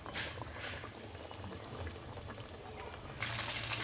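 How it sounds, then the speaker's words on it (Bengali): Pieces of chicken dropped into a pan of hot oil, a dense bubbling sizzle that holds steady and then swells louder near the end, close by and without voices. "আর পাশে করতেছি গরম তেল, এই গরম তেলের মধ্যে দিয়ে দেব।"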